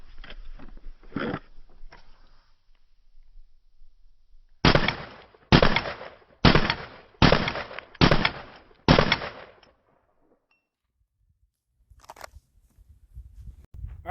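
Glock pistol fires rapid bill drill shots: a few earlier reports, then six sharp, evenly spaced loud bangs in quick succession, close up, followed by near silence and faint movement.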